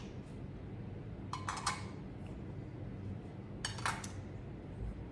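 A metal Scentsy warmer's warming dish being handled, giving two brief bright clinks a few seconds apart over a quiet room hum.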